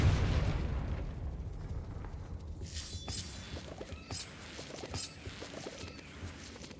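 A Confringo spell blast in Hogwarts Legacy, a booming burst at the start that fades into scattered crackling and debris-like pops.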